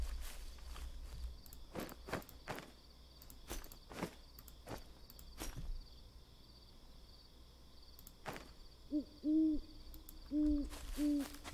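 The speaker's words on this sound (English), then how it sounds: "Mr. Owl's in the background." An owl hoots in the No One Survived survival video game, a few soft low hoots near the end, over footstep-like clicks and insect ambience.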